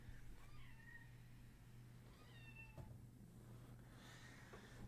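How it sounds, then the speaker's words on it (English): A kitten meows at a door several times, soft rising and falling cries that are fairly faint and set against a steady low room hum, with no talking. "My kitten was meowing at the door."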